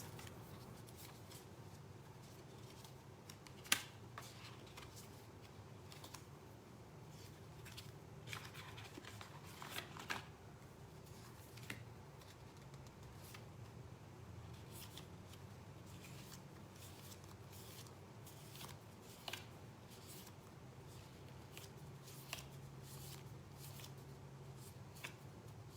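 Oracle cards are shuffled and drawn by hand in a quiet room, a soft continuous riffling and sliding of cards with occasional small taps, close but faint.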